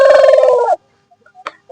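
A country rooster of the kaaki breed gives a loud, close, hoarse call lasting under a second that ends in a falling tail, followed by near silence and a few faint clucks and rustles.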